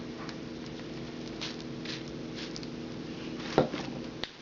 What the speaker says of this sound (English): Now let me spritz it.